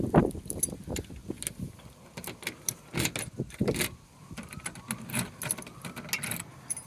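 A ring of about five keys jangles and clinks in irregular bursts as someone fumbles to unlock a storage door, close by with no talk.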